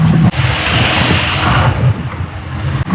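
Wind rushes steadily past an open tuk-tuk moving at speed in Thailand, a loud continuous buffeting roar with a low rumble underneath throughout.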